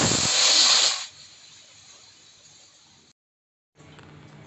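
A pressure cooker cooking bisi bele bath lets out a loud, close hiss of escaping steam for about a second, followed by a faint lingering sputter, a brief silence, then a low hiss again.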